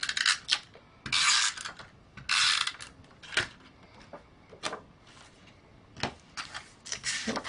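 A snail adhesive tape runner pressed along a scrap of card stock during card making, giving a series of short crackling, ratchety bursts with brief pauses between strokes, close up and alone.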